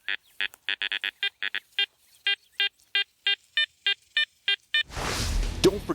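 Garrett Apex metal detector fitted with a Viper coil signalling on iron: a close, loud run of sharp repeated beeps, fast at first then slowing to a steady rhythm, ending in a burst of broadband rustle.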